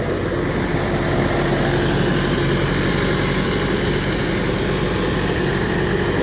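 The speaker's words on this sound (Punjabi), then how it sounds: "ਟਰੈਕਟਰ ਦਾ ਮਿੱਤਰੋ ਜ਼ੋਰ ਬਹੁਤ ਲੱਗਣ ਡਿਆ" A tractor engine labours under heavy load in a rice paddy field, a loud, steady low rumble that drones on without a break, close by and with no voices over it.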